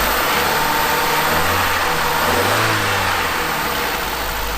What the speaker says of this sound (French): Donc, là on entend tourner le moteur. Je vais l'accélérer un petit peu.